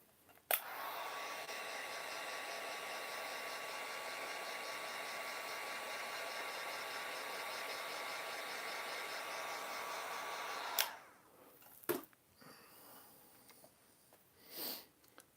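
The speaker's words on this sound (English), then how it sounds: "Let's get out my heat gun and dry that paint." A heat gun drying paint on a small action figure blows a steady whirring roar from the half-second mark for about ten seconds, then cuts off, leaving faint handling knocks and rustles.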